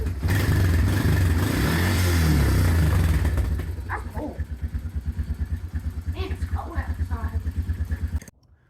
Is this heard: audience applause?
no